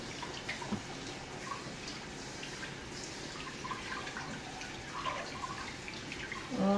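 Water sloshes and drips steadily as a cooking-utensil-like item is gently swished in a sink or basin, a low continuous watery wash with small splashes, fairly close, ending in a slightly louder burst.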